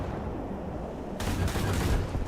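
A 122mm tank cannon fires in a World War II tank video game, from a stock IS-2 heavy tank: one sudden, loud broadband blast with a rolling rumble that holds for about a second over steady engine and battlefield noise.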